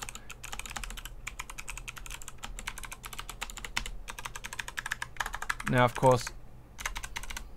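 Rapid, steady typing on a MOTOSPEED CK61 60% mechanical keyboard with Kailh Box White switches, muted clicks running through the whole stretch with a brief pause, close by, and a short spoken phrase near the end.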